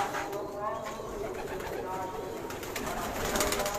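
High-flyer pigeons cooing on a rooftop loft, a low continuous burble under a voice talking nearby.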